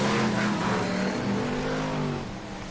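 BriSCA Formula 1 stock cars race past at Kings Lynn, a blurred roar of several engines sweeping by at moderate distance and easing slightly as they pull away.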